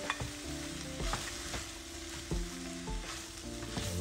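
Rice for salmon fried rice fries and gets stirred in a pot, a continuous close sizzle with repeated scraping stir strokes, no voices.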